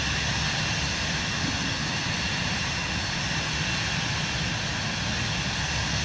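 Steady broadband roar of an Airbus jet engine in Microsoft Flight Simulator 2024, a constant loud wash of engine noise with no breaks and no voices.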